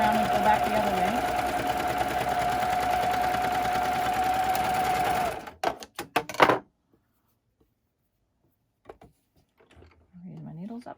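A sewing machine stitches a newborn-size elf outfit in a steady, close whir, then stops with a few short clatters and falls quiet; a voice speaks briefly near the end.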